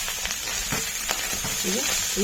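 Pond snails frying in hot oil in a pan, a steady close sizzle with scattered small pops and crackles through the short stretch.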